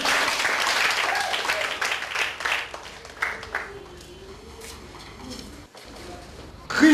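A church congregation claps and applauds, loud and dense at first, then thinning out and fading over several seconds, with a few voices heard in the mix.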